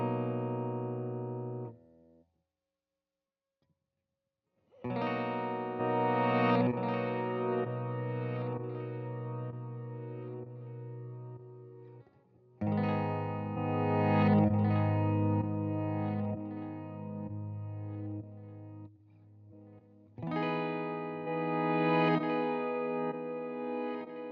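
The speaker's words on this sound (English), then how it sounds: "The third one is a reverse delay patch with delay plus reverb patch." A guitar runs through a pedal set to a reverse-delay patch with delay and reverb, producing swelling, echoing phrases separated by short gaps, with no talking.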